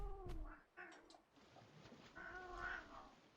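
Several faint meows come from cats nearby, a run of short whining calls followed by a longer, drawn-out one, over a low background hum.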